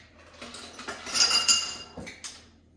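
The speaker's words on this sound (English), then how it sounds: "We'll get some ice and we'll stir." Ice clinks and rattles against glass as a Vieux Carre cocktail is stirred, a close run of light, irregular clicks that swells and then fades.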